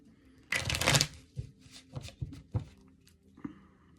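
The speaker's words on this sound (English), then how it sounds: "One more shuffle here." Tarot cards shuffled by hand, a loud burst of riffling followed by several softer taps and shuffles, close up with no talking.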